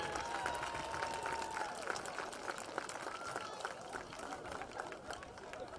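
Spectators at a Richland Rams high school senior night give the seniors a round of applause, a broad, distant wash of clapping mixed with crowd chatter and scattered voices.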